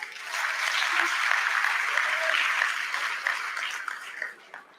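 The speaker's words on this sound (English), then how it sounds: "I want us to clap for the board of directors of the President International Award." Audience applauding at a Bronze and Silver award ceremony for the President's International Award, a steady, dense wash of clapping sustained throughout before thinning out near the end.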